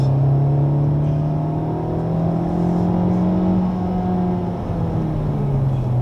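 A Honda Civic Type R on the Le Mans race track, heard from inside as a loud, steady engine drone that rises and dips slightly in pitch across the run, with no talking.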